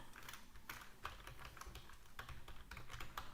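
Fast typing on a computer keyboard, a quiet run of close, crisp key clicks with an uneven rhythm and no voices.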